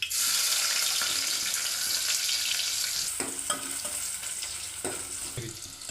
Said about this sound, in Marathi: आता तेल गरम झालेलं आहे त्याच्यामध्ये आता आपण कांदा घालून घेऊ